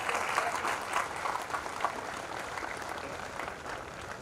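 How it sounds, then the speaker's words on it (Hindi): Sustained audience applause in a Hindi comedy poetry (hasya kavi sammelan) gathering, a dense steady wash of many hands clapping at moderate loudness throughout, with no speech over it. "एक बार तालियां वालियां बजा दीजिए।"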